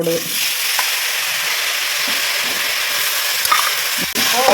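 Beetroot poriyal stir-frying with spice powder in a pan, a continuous bright sizzle with occasional scrapes and stirring clicks, loud and close, no talking.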